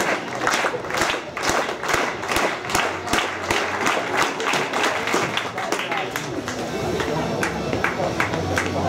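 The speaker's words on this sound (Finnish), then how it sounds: "annetaan vasta kunnon aplodit" A crowd at the Jyväskylä Games 2015 athletics meet claps for a long jumper, a loud rhythmic burst of many hands that settles into sustained applause while an announcer talks over it.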